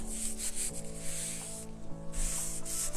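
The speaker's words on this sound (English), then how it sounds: "I'm just going to come in with our little sander here" A small sander works over a decoupaged framed hymn, giving a continuous close whirring rub with steady hum and rising, falling scratchy passes.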